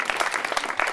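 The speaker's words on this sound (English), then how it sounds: "Let's give them a round of applause." A brief burst of audience applause at a political event, dense overlapping clapping heard close and fairly loud for about a second.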